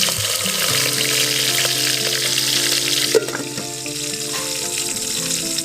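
Garlic paste, cinnamon and cloves hit hot oil in a pan over a village clay stove while chicken curry is started, giving a loud, continuous close sizzle with a brief stir partway through.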